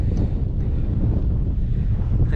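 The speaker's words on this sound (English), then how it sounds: "it's getting a little bit windy here because we're getting a bit more exposed" Wind buffets the microphone on an exposed hill track near Malham Tarn, a steady low roar and rumble that fills the whole moment, fairly loud, with no voice heard.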